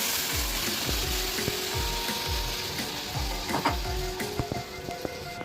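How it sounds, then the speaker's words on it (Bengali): Mustard seeds and boiled dal sizzling in a spoonful of hot ghee, a steady close frying hiss with scattered crackles and pops and a low rhythmic knocking of stirring against the pan. "প্রথমে আমি দিয়ে দিলাম ঘি, 1 চামচ ঘি, আর এতে দিয়ে দিচ্ছি একটু সর্ষে। এবার আমি দিয়ে দিচ্ছি সিদ্ধ করা ডালটা"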